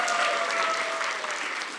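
Studio audience on an Indonesian health talk show gives a lively round of applause for three guests, dense clapping close and loud for a brief burst, with a faint tone running underneath.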